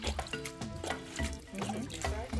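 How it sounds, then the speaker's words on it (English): Recycled glass beads are washed in clean water, splashing and trickling with small clinks of beads in a basin, close and continuous, with faint background voices. "Then we wash it with clean water."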